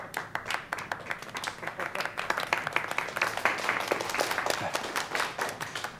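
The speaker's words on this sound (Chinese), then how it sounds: "我们掌声欢迎" Audience applause in a television drama as a teacher and candidate for leadership of a pig-farming alliance is welcomed: dense, steady clapping from a group that holds for several seconds at moderate volume, with no talk over it.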